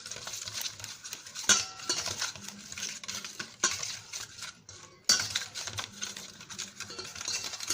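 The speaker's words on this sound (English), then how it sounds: "Now add some milk and again mix it well." A spoon stirs donut batter with milk in a bowl, giving repeated scraping and clinking strokes with a few sharper knocks against the side, close and clear, with no talk.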